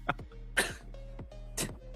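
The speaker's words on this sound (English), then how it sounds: "You made me cough out." A man coughs a few times during an esports commentary broadcast. The coughs are short and fairly faint and come close together in a brief burst.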